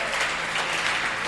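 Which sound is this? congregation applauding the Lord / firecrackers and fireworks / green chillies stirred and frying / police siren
congregation applauding the Lord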